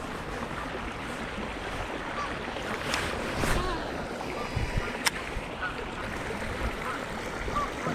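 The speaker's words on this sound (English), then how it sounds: "A little bit of wind on the water today." Wind blowing across open water on a winter day at a fishing bank, a steady broad rushing noise with gusts swelling and easing throughout, plus faint lapping and a brief sharp click near the middle.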